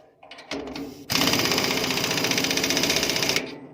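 A trailer jack is cranked down during a leaf-spring shackle replacement. A fast, rhythmic mechanical rattle runs steadily for over two seconds, close and loud, after a few short clanks.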